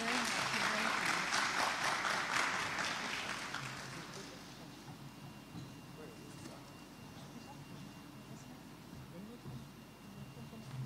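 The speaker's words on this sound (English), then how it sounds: "let's give another round of applause." Audience applause at a morning session of an annual science research symposium, loud, dense clapping for the first four seconds that thins and fades into a low murmur of the room.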